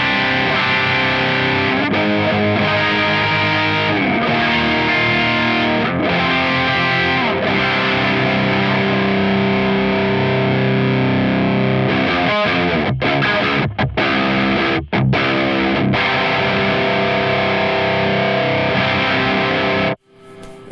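Electric guitar played through the boost side of a VS Audio Royal Flush dual overdrive pedal set to low gain, loud powerful distorted chords ringing with clear definition, a few short pauses, then cutting off abruptly near the end.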